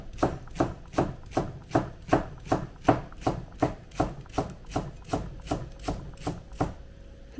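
A knife chops green onions on a cutting board in a home kitchen while making pickled chili relish, about sixteen steady, evenly spaced thuds, close and clear with no talking.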